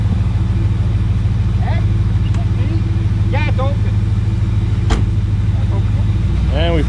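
An old 1975 Ford LTD with a 460 cubic-inch big-block V8, recovered from a field, runs and moves under its own power as a steady, close low engine rumble throughout, while people talk briefly over it.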